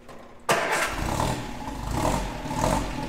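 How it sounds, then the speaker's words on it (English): A 1953 MG TD engine cold-starts with choke applied: a sudden loud catch, then a steady, rough, throbbing idle with low rumble and mechanical clatter continuing close by, no talking. "We're going to do a cold start on the 53MG. Clutch is in. Turn the key."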